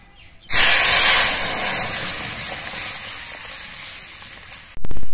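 Lentils hit hot oil tempered with fried mustard seeds and dried chillies, setting off a sudden loud hiss that sputters steadily for several seconds before cutting off.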